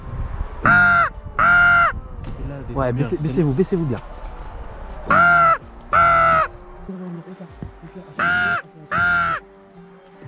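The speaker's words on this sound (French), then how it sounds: "un autre corbeau arrive" A rook, a kind of crow, caws in loud, harsh bursts, first a pair, then another pair, then a pair again, with a person speaking quietly in French between calls outdoors.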